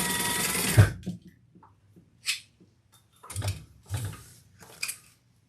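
A sewing machine bastes fabric for a sling pack with a short run of stitching up front, followed by quiet handling clicks and several brief, separate bursts of the machine, all close by.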